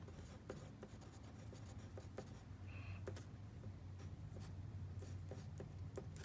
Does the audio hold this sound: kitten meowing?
no